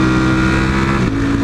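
A superbike engine revs loudly and close by in a short, sustained roar with a tonal buzz that shifts in pitch partway through.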